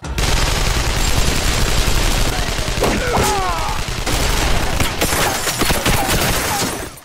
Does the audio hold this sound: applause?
no